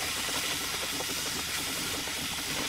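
Overheated engine coolant boils over and sprays out as loud, continuous hissing steam, a dense unbroken rush that stays steady throughout with no voices.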